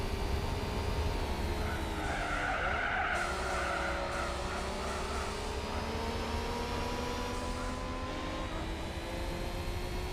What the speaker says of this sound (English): Listening to that turbo kicking in is just ridiculous.